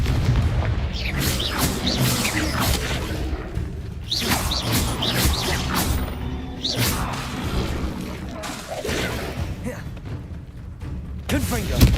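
Confringo explosive spells blast repeatedly in Hogwarts Legacy, loud booming hits and whooshes layered densely over game music, with a voice talking over the action.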